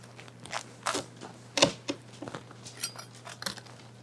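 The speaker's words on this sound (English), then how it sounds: "Oh, listen to that crispy crust." A straight-bladed knife cuts through the crispy crust of a sourdough focaccia, giving a series of close, crackling crunches and scrapes in irregular bursts, with one sharp crackle standing out partway through.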